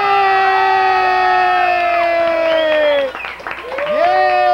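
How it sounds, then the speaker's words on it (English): A small group, including children, cheers at a home celebration after a 1996 Stanley Cup win by the Colorado Avalanche: loud, high whoops and sustained shouts that fade briefly, then rise again near the end. "And the crowd goes wild"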